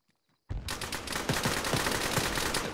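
Automatic gunfire in the Arma military shooter game breaks out after a near-silent moment and continues as a dense, rapid string of shots at a steady, fairly loud level.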